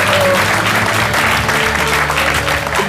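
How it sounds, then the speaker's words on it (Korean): Dense applause from a studio audience on a Korean television talk show, loud and continuous for a few seconds with a faint murmur of voices mixed in. "박수 쳐주시고 쳐주세요."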